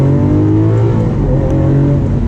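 A Lamborghini Aventador accelerates out of a turn, its engine a loud, close, sustained roar with strong steady harmonics through the whole short burst.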